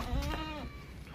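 A goat being shown for sale gives a short bleat, loud and close and wavering, with no other sound over it.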